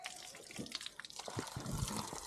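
Water splashes and drips from an outdoor tap while someone drinks from it, faint and close, with irregular trickling and splattering throughout.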